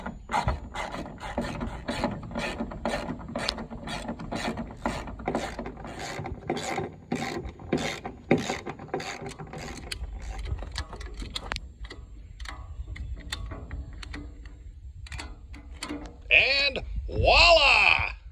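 Straps being ratcheted tight to secure a mower on a trailer, with a long run of steady, rhythmic rasping clicks, then a louder scraping burst near the end, and voices faintly present.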